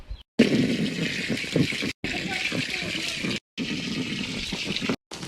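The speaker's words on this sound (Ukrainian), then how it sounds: "Зараз кладу його на сонце буду напускати воду. Напускаю воду." Water rushes steadily into an inflatable pool outdoors in the sun: a continuous hissing, splashing flow, loud and close, broken by a few brief cuts.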